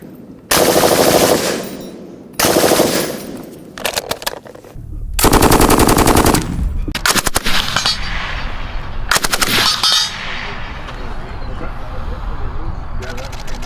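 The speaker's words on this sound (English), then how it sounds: "the XM250 light machine gun" Bursts of fire from an XM250 light machine gun, loud and close, with several sustained strings of rapid automatic shots separated by brief pauses and a steady background rumble between them.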